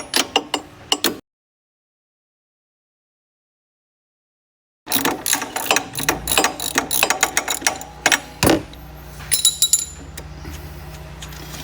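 Ratchet clicking repeatedly while loosening a rear shock absorber nut on an ATV, a brief burst, a silent gap, then sustained close ratcheting with metallic clinks and tool handling, no talk.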